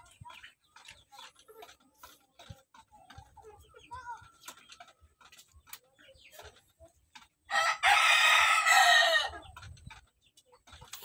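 Shamo breeder rooster in a small backyard crowing once, a loud drawn-out call standing out above scattered clucks, ticks and faint bird sounds.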